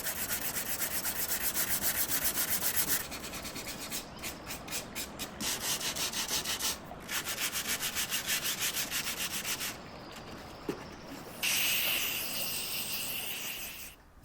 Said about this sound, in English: For the final sanding before staining, I'll use this hand sanding block.